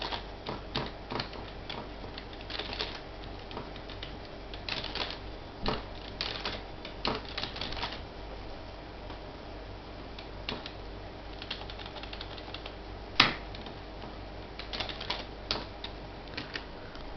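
Keyboard typing for data entry into an Excel 2003 spreadsheet, with bursts of quick clicky keystrokes, pauses between runs, and one louder key strike, close and fairly quiet with no talking.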